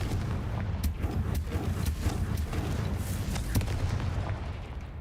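Confringo blasting spells cast in Hogwarts Legacy, a run of repeated sharp booms and crackling impacts over a continuous rumbling low backdrop, fairly loud and without talk.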